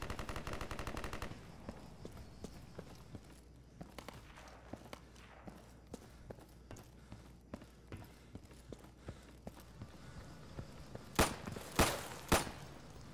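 Garry's Mod gunfire comes as a dense burst at the start, followed by scattered sharp single shots or footfall-like clicks over a low steady ambience, ending in a few louder bangs near the close.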